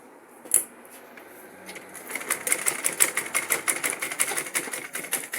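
A sewing machine stitches a part onto a handmade bag, its rapid mechanical clatter starting after a brief knock and building into a steady, fairly close run of needle strokes.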